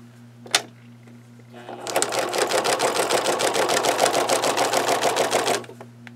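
A sewing machine stitches through a denim traveler's notebook cover with pockets and flaps, running in a steady rapid burst of needle strokes for about four seconds after a brief click, close and fairly loud with a low hum underneath.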